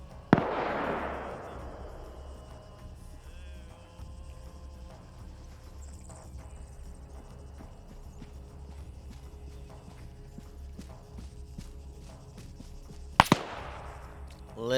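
Distant autocannon fire in a 220-player PvP military video game: faint, rhythmic far-off thumps under a steady ambient rumble, with sharp louder blasts near the start and again near the end.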